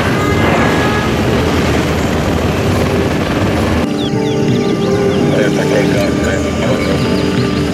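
Hypersonic aircraft unit from the Command & Conquer strategy game, a steady loud engine roar with rotor-like whine and chirping game effects, heard beneath talk and in-game voice lines.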